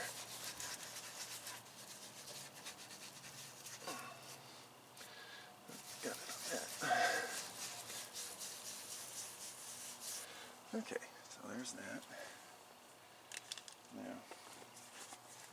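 Dried-out toothpaste being rubbed onto a car headlight without water, heard as soft, close scrubbing and rasping strokes that come and go over about fifteen seconds.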